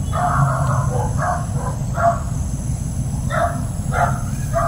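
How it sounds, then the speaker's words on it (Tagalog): Several short dog barks in scattered bursts over a steady low rumble of background noise, moderately close. "Nag-iingay po yung aso ko"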